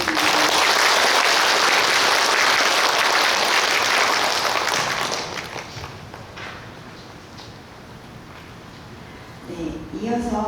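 Loud, dense applause from a conference audience at an academic symposium marking a Cheontae temple's 50th anniversary, sustained for about five seconds before fading to sparse clapping and room noise, with faint voices returning at the end.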